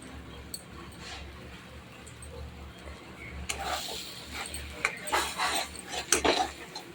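A spoon clinks and scrapes against a pan while masala spices are stirred and fried, quiet at first and then turning into busier, louder clattering strokes over a low background hum.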